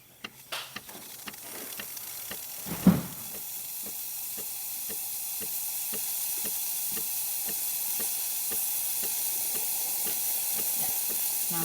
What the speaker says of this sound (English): Now we've got good steam.